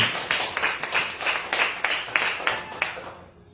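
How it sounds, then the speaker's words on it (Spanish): A church congregation claps in rhythmic unison during a sermon, a run of steady, fairly loud beats that fades out near the end. "Aplauso a Jesús."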